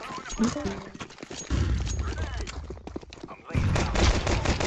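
Rapid bursts of gunfire from the video game Counter-Strike 2 crackle through most of the stretch, loud and close, with a voice talking over the shooting now and then.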